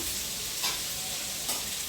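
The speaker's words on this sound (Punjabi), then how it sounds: "ਥੋੜਾ ਜਿਹਾ ਬਰਾਊਨ ਕਰਦੇ ਆ ਪਿਆਜ਼ਾਂ ਨੂੰ" Onions browning in oil in a pan, ahead of adding bitter gourd, give a steady close hiss and sizzle, with two brief stirring scrapes breaking through.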